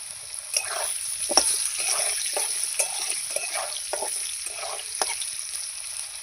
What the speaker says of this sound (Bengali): আমি কিন্তু যেই কড়াইতে মাছ ভেজেছিলাম যেই তেলে ওই তেলের মধ্যেই আমি আলুগুলো ভেজে নিচ্ছি